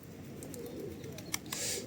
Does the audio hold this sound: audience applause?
no